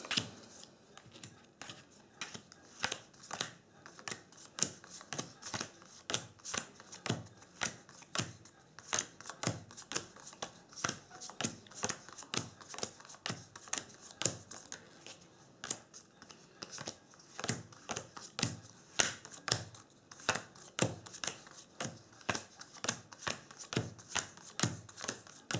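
Card shuffling of a 60-card Magic: The Gathering deck: a long run of quick, crisp riffles and flicks repeating in a steady rhythm, close and fairly quiet, with no voices.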